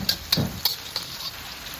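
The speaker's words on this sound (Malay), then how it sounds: "Saya tumis dengan bawang sekali macam tu, biarkan macam tu, tumis-tumis macam tu je." Soft sizzling in a pan as salted fish is stir-fried with onion, with a few light scraping stirs at irregular intervals, close by, with no voices.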